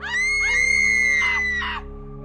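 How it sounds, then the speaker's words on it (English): A woman's high, sustained scream serves as a horror-story sound effect, loud and strained, rising to a peak and cutting off abruptly after about two seconds. "screams reached a climax, then abruptly ended with a wet gurgle"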